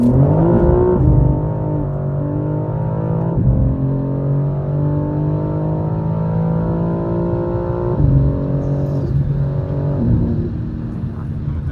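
A 900 bhp stage 2 tuned BMW M4 (G82) with traction control off accelerates hard with a deep, loud growl close by, rising in pitch and dropping back at several gear shifts.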